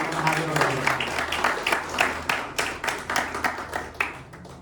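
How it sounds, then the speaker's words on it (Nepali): A school art competition audience applauds the event's supporters, with lively, dense clapping that slowly settles into separate, rhythmic claps as it winds down, and a voice faintly present underneath. "यी सम्पूर्ण सहयोगी सहयोगी मनहरूलाई एकपटक जोरदार तालीले सम्मान व्यक्त गरेको"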